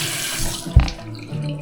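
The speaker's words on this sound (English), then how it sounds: "Quick rinse down." Running tap water rinses a shaving brush over a sink, a steady soft wash of water with a brief louder splash midway as the brush passes under the stream; no talking.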